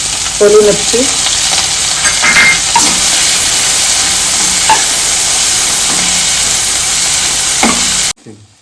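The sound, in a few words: onion, garlic and curry leaves frying in a pan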